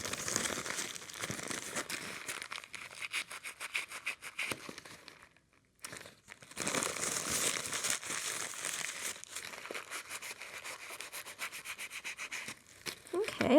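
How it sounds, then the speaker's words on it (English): Paper towel wiped and rubbed over a stamped metal bar pendant to remove excess patina paint, giving close, steady crinkling and scrubbing strokes with a brief pause midway. "and I'm just going to wipe away the extra paint."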